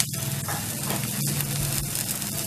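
A chicken roll fries in oil in a pan over a low to medium flame, giving a steady, close sizzle with faint clicks and no talking.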